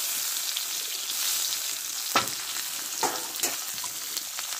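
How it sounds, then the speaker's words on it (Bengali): Chopped onion, garlic and chilli fry in oil in a pan with a steady, close sizzle throughout, broken by a few sharp stirring scrapes. "পেঁয়াজটা দিয়ে ভালো করে লাল করে ভেজে নেব।"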